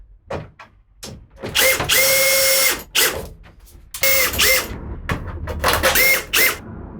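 A power drill drives long screws through a garage door, in several loud whirring bursts of a second or so each with short pauses between, close and alone with no talk.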